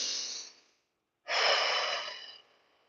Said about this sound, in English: first of all, take a deep breath.